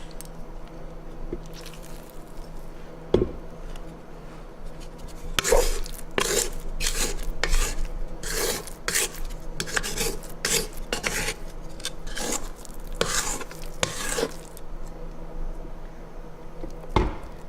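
A spatula scraping cinnamon roll dough off the sides of a stand mixer bowl, a series of irregular scrapes, knocks and squishy clatters against the bowl, close and fairly loud with no talk.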